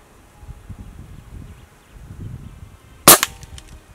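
An air gun fires a single sharp, loud crack at green iguanas up in a tree, after a few seconds of quiet outdoor rustling and faint insect noise.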